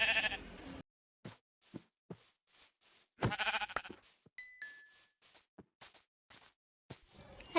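Repeated sheep bleats from a Minecraft-style survival game, a series of short, evenly spaced calls following a louder opening burst, with faint game effects in between and no talking.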